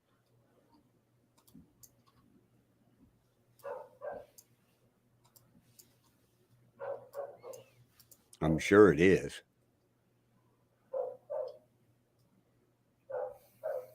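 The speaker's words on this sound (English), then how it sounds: "Okay, whose dog's barking?" A neighbor's boxer dog barks on a ranch, paired woofs repeating at intervals from a moderate distance, with a brief spoken line landing in the middle among faint ticking sounds.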